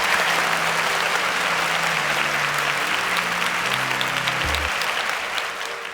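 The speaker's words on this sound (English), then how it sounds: "can we give them a round of applause as they exit?" Studio audience applauding steadily for departing contestants on a competition show, a dense, sustained clapping that stays loud throughout and only begins to ease near the end, with a low musical drone underneath.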